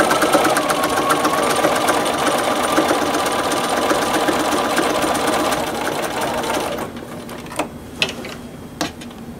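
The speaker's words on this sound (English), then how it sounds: "You sew along that line." Sewing machine stitching a recycled T-shirt tote bag, a loud, close, steady mechanical whir with rhythmic needle clatter for most of the clip, then stopping and leaving a few sharp clicks and handling knocks.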